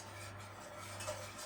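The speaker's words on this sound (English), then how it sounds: "I'm going to use my whisk just to combine that until the jelly is melted and the tamari" A whisk scrapes and clinks softly in a pot while combining jelly and tamari paste, a quiet, steady stirring with a low hum underneath.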